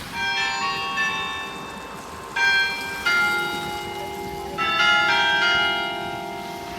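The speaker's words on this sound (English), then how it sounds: "Actually, that chime was really nice." Church bells ring out in Reykjavik, Iceland, a sustained chime with several distinct strikes whose tones overlap and linger, loud and fairly close over faint background ambience.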